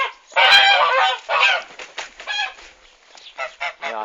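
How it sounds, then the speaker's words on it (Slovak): A small farmyard flock of seven geese and seven ducks honks in loud, close bursts, a few strong calls followed by a string of shorter, choppier honks with brief gaps between them. "Tu je 7 husí, 7 kačíc."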